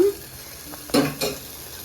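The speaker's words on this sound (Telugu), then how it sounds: "టమాటోస్ ఇలా మంచిగా ఫ్రై అయిన తర్వాత" Tomatoes fry in a pan, giving a faint background sizzle broken by two short, louder scrapes or stirs close by.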